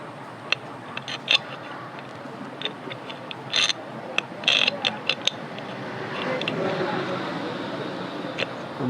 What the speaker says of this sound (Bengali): স্ক্রু দিয়ে নিলাম, নাট দিয়ে নিলাম।